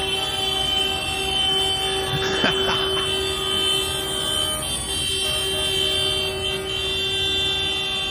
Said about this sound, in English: Lots of honking.